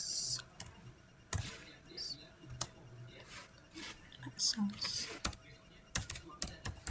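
Computer keyboard keys pressed while configuring a VoIP network in Cisco Packet Tracer, heard as scattered sharp clicks at an irregular rhythm, with a few louder strokes among soft taps under quiet talk.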